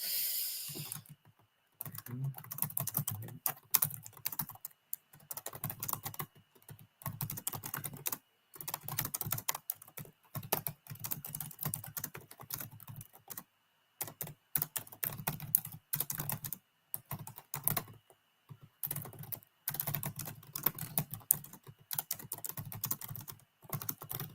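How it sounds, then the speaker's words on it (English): Bursts of fast typing on a computer keyboard clatter close and fairly quiet, broken by frequent short pauses, over about twenty-four seconds with no talking. "let me type it up"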